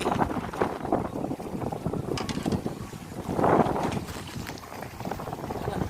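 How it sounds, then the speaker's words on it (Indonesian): Strong wind buffeting a fishing platform out at sea, a steady loud rush with gusts swelling and fading, with faint voices and creaks under it. "Maklum anginnya gede banget, megangnya ngeri."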